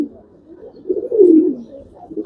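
A pigeon coos close by in a coop, a soft throaty warble swelling in the middle, with faint rustling around it.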